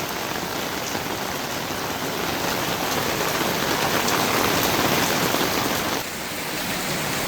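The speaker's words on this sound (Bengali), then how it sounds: "এবার বোঝা যাচ্ছে কতটা বৃষ্টি পড়ছে।" Heavy rain pouring steadily beside a swimming pool at a homestay in Dalim Khola near Kalimpong, a dense unbroken hiss that stays loud throughout and dips only slightly near the end, with no voices.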